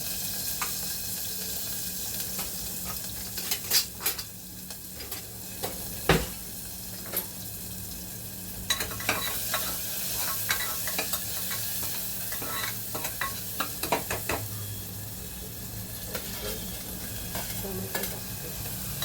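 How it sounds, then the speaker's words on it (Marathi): Curry leaves fry in hot oil for dal khichdi, with a continuous close sizzle and frequent scraping and clinking as a spoon stirs them around the pan in uneven bursts. "कढीपत्ता टाकते, कढीपत्ता तळून टाकते"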